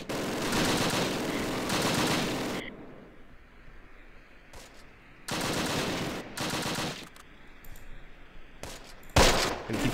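WWII video game firefight: bursts of rapid machine-gun fire in loud, close clusters, separated by quieter gaps, with a sharp final shot near the end.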